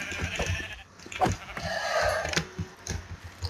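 Sheep bleating in the video game Minecraft, several short bleats mixed with game sounds and clicks, heard alone without talk.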